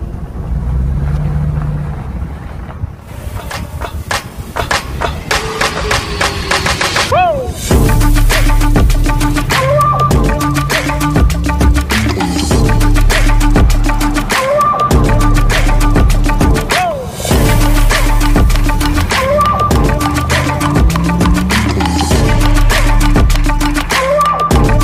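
A Dodge Ram 1500 pickup's V8 engine while driving: after a quieter, wind-buffeted start, the engine swells into a loud, sustained rumble with rising and falling revs as the truck accelerates.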